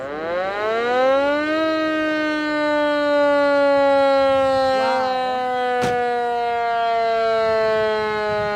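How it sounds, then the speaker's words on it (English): A loud mechanical vintage ambulance siren winds up to a steady wailing tone, then holds and slowly drifts down in pitch, sounding close and sustained without talk, at a vintage car show in Evansville, Indiana. "now this is a siren for an ambulance"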